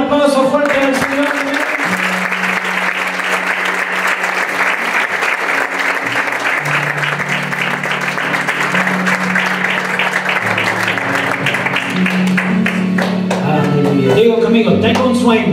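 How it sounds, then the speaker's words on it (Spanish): A church congregation claps loudly and continuously in a sustained burst of applause, with music playing beneath it throughout. "Queremos dar un aplauso fuerte al Señor."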